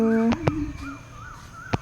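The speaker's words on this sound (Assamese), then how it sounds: "মৰ্ণিং চৰাই চিৰিকটিৰ মাত, পৰিৱেশটো ইমান ধুনীয়া লাগে।" Crows caw a few times in the quiet morning, a couple of sharp calls standing out near the start and one more toward the end, with softer bird chirps and a faint tonal hum in the background.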